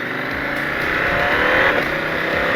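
KTM 890 Adventure motorcycle fitted with an AliExpress aftermarket exhaust revving, a loud, close engine roar that builds and swells in a single pull before easing slightly.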